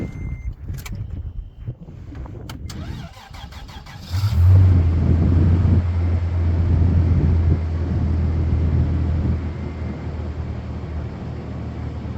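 A Toyota car engine with a bad engine cranks briefly, then catches and settles into a loud, steady idle close by, easing slightly after several seconds.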